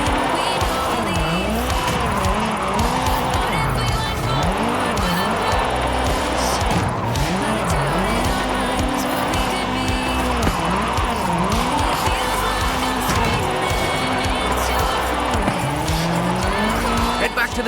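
Car drifting in the video game Forza Horizon 5 at a Mexico drift club, a steady engine roar with rising and falling revs and continuous tire squeal, loud and close throughout, with a voice talking over it.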